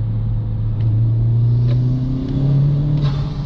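A 2019 Honda Civic Type R accelerates hard into a corner, its engine a loud, sustained rumble heard from inside the car with rising and shifting pitch, and no voices over it.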